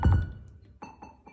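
Single drum hits from a drum set during tuning, a few separate thuds spaced apart after a louder opening strike, close and moderately quiet with no talk.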